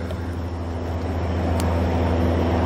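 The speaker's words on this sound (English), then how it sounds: "that plane's loud" Airplane flying overhead at night in a wooded Adirondack location, a steady low droning rumble that fills the whole stretch and grows slightly louder toward the end.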